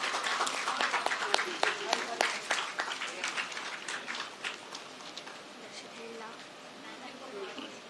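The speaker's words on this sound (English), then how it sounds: "Give a big round of applause." An audience at a cancer care awareness endowment program applauds with many hands clapping briskly, loud at first and then gradually thinning and fading over several seconds.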